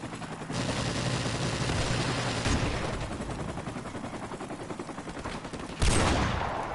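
Sustained automatic gunfire from Call of Duty Modern Warfare Remastered rattles continuously, dense and loud throughout, with a sharper burst near the end.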